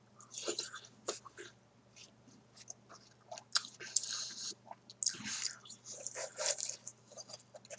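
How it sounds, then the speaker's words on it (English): Crisp, juicy bites and crunchy chewing of watermelon come in close, irregular bursts with quiet gaps between mouthfuls. "I love the sound of the watermelon. I don't know about you all, but it sounds so good and crispy."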